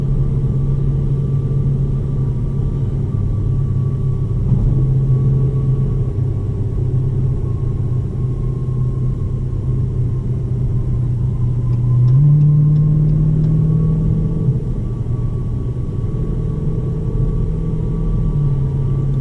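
A 2020 Dodge Challenger 1320 Scat Pack V8 cruises in drag mode with revs held high, a steady low engine rumble and road drone heard from inside the cabin, swelling slightly partway through.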